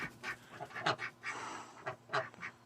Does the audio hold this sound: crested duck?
yes